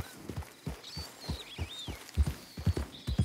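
Hooves of a horse in Red Dead Redemption 2 clopping at a steady walking pace, soft thuds repeating in rhythm, growing slightly heavier, with faint high whistling ambience above.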